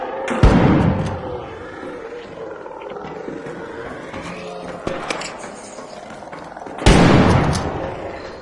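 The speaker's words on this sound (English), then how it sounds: "the shotgun blows that motherfucker apart" Two heavy shotgun blasts in the game Arc Raiders, one early and one near the end, each a sudden loud boom with a decaying tail, separated by quieter rumbling ambience.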